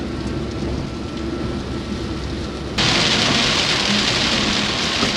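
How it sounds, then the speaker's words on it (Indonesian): Heavy rain pounds a car driving on a toll road in Java, a dense continuous wash of drops that suddenly grows louder and brighter partway through, with road rumble underneath and no talk. "Dan ternyata hujannya sangat deras teman-teman ya, deras banget ini."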